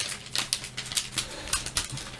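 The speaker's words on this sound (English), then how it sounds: "they all came in these little plastic bags, so you get to hear that during the whole video" Small plastic bags being handled, a series of light crisp rustles and ticks repeating roughly every half second, close and fairly quiet over a faint steady background.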